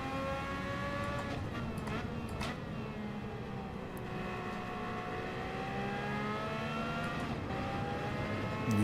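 The race car's engine in Gran Turismo 7 drones steadily at close range, its pitch climbing and dropping through gear changes in an unbroken run with no talking.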